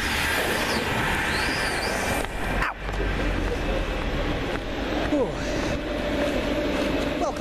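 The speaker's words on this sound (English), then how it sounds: "You want to wait for that train?" A train rolls past nearby at Wilmslow, a steady loud rumble with wheel noise that swells briefly midway, with people talking over it.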